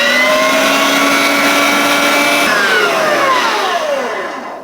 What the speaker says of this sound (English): So what you're gonna do, it just went through the grinder.